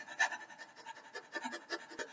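Rapid rhythmic panting with the tongue out, as in a theatre breathing exercise. Short quick breaths repeat steadily, close and moderately soft.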